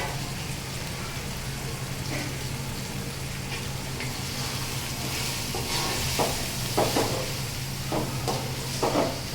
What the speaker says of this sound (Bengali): তো আমি চালটাকে বেশ ভালোভাবে নেড়ে চেড়ে মিশিয়ে নেব।